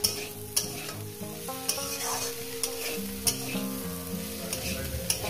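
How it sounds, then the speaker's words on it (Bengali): Mourala fish frying with drumstick flowers in a pan, a continuous oily sizzle broken by repeated scraping knocks of a spatula stirring, close and moderately loud without talk. "আর 1 মিনিট ভাজবো।"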